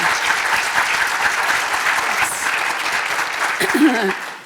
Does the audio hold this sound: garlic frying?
no